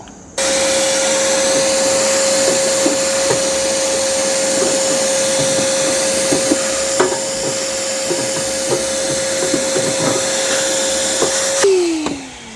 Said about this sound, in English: So I'm going to go ahead and vacuum that out.